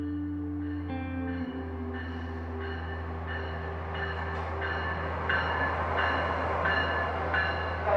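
A commuter train on the Lancaster to Philadelphia line rolls steadily along the tracks, a continuous low rumble with a faint rhythmic beat of wheels over rail joints that grows slightly busier toward the end.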